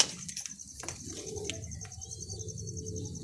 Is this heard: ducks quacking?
no